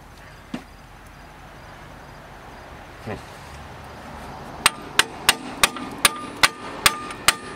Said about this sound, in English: Found my hammer in there.